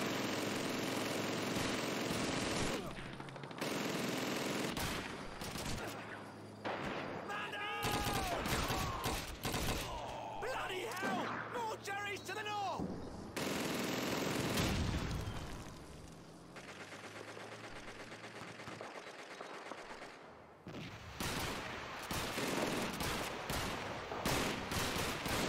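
Automatic machine gun bursts in the World War II shooter Call of Duty 2, sounding as repeated loud rattling volleys mixed with explosions, engine rumble and battlefield din across most of the stretch, with no voices.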